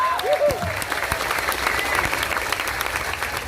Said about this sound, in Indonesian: Keren, tepuk tangan untuk NU Taiwan.